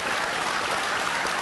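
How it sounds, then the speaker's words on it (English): An audience at a motorsport legends event applauds, giving a dense, even wash of clapping that stays steady and fairly soft throughout, with no voices over it. "Give him a round of applause, please."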